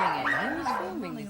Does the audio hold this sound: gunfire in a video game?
no